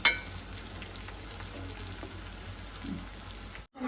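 Vegetables frying in a pan with a steady, soft sizzle and crackle, close up and fairly quiet, with no voices and a brief drop to silence near the end.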